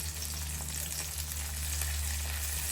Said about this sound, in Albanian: Në fillim shtoj specat, ju hedh vaj dhe në temperaturë mesatare i fërgoj specat derisa të zbuten.